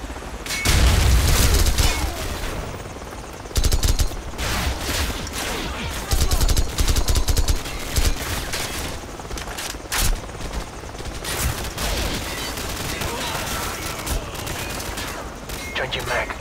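Gunfire fills a Call of Duty 4: Modern Warfare battle, with bursts of automatic rifle fire, booming shots and a dense fusillade running almost nonstop, loud and close, with soldiers' voices calling out over it.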